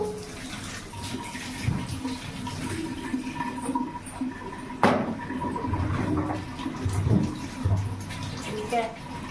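Freshly picked okra gets washed in water, with splashing and running water sloshing at close range and a voice speaking now and then.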